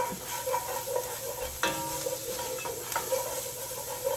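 Red curry paste toasts and sizzles in coconut milk in a pan while being stirred, a soft continuous frying hiss with gentle scraping strokes and light clicks of the utensil close by.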